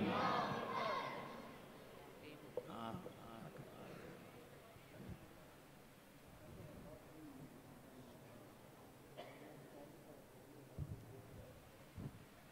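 At an Urs gathering, a crowd answers a takbir call with a loud chant that trails into murmuring, rustling and windy outdoor noise, with a few faint shouts later on.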